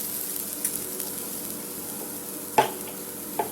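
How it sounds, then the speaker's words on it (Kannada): Batter-dipped bread pakora shallow fries on an oiled tawa with a quiet, even sizzle in the background, broken by a couple of brief knocks or clinks of handling. "ಅದಕ್ಕಾಗಿ ನಾನು ಇದನ್ನು ಶಾಲೋ ಫ್ರೈ ಮಾಡ್ತಾ ಇದ್ದೇನೆ."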